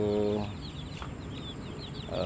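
Laying hens on an Indonesian egg farm cluck in a small flock, short repeated clucks and a few drawn-out calls, close and fairly loud over a soft background hum.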